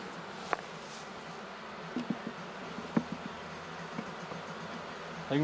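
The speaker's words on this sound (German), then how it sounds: "die Bienen sitzen natürlich gut am Futter" Honeybees cluster on a feeding comb inside a queen-rearing hive, their continuous close buzz joined by a few soft clicks and knocks of frame handling, with no voices.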